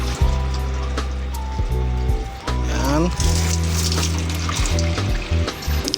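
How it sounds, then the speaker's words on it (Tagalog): Water pours and splashes continuously into an aquaponics fish tank holding koi, a steady rushing fill heard alongside someone speaking and some tonal hum. "Kargahan muna natin ng tubig to."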